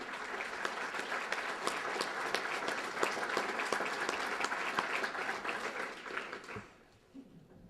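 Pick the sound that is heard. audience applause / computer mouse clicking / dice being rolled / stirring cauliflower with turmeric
audience applause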